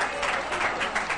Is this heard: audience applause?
yes